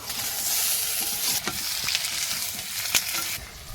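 Green chilies and onions fry in a pan with a steady, close, fairly loud sizzle, broken by a few sharp clicks and spatters from stirring, with no voices.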